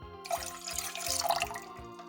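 Water pours from a tap or jug into a pot as the base for a Korean soy sauce glaze made for grilled green onions, a near, steady splashing stream that lasts about two seconds with no talking.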